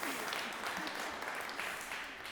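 Audience clapping at a talk on eating disorders and mental health, a steady spread of hand claps sustained evenly through the moment, fairly close and moderately loud, with a faint murmur of voices underneath.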